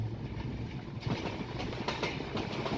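A passenger train runs through Hili station on the India-Bangladesh border, with a steady rolling rumble and soft rhythmic clatter heard from close by, and no talk.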